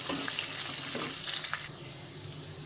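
Tempering sizzles in hot oil in a pan for Andhra-style mango pulihora, a steady close frying crackle with a few stirring clinks, easing slightly toward the end.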